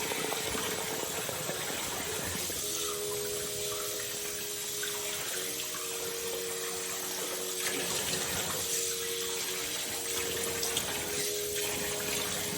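Tap water gushes steadily into a sink or tub, a constant loud hiss lasting the whole stretch, with a low humming pump or pipe tone rising and falling underneath.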